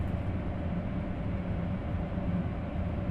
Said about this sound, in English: Train is running almost what seems to be just a normal pace.